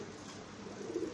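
Pankhi fancy pigeons kept for sale, cooing in a low continuous murmur that runs steadily through the short stretch, fairly quiet and close, with no voices.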